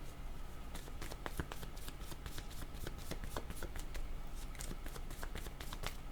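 A tarot deck being shuffled and drawn up close: rapid crisp riffling snaps of cards in quick irregular bursts, continuous and fairly quiet, with no talk over them.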